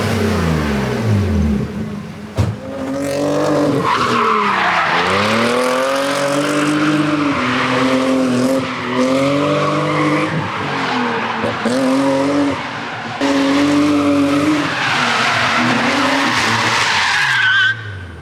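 A big-block V8 drift car roars through a long slide, engine revs rising and falling in sweeping waves while tires squeal continuously, loud and close with a sharp bang early on.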